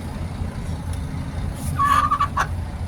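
A chicken clucks briefly a few times over a steady low background rumble, fairly close by.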